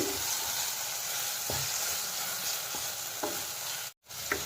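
Tomatoes stir-fried in a pan for a local chicken curry give a steady, close sizzle, with several soft scrapes and stirring clicks and a short break near the end.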